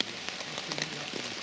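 Rain patters steadily on surfaces around a woodland wild camp, a dense hiss of drops with occasional sharper ticks, no voices present.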